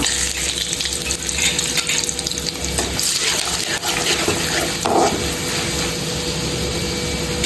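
Asafoetida, turmeric and Kashmiri red chilli powder hit hot oil for a dhaba-style dal tadka, making a loud, continuous close sizzle with occasional stirring clatter throughout.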